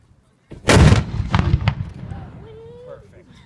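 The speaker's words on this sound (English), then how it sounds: "Mortar crew, make ready." A mortar fires at Old Fort Niagara with a single loud, sharp blast, followed by a rolling echo that fades over a few seconds. A faint tone lingers as the echo dies away.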